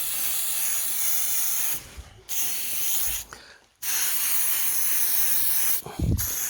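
Spray paint can hissing onto a griffin miniature in steady close bursts of roughly two seconds each, with short gaps between sprays and no talking.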